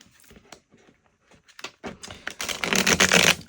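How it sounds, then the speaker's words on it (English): Tarot cards being shuffled by hand, starting as sparse soft flicks and taps, then building into a dense, loud riffling burst over the last second and a half. "First, I'm going to give a good shuffle."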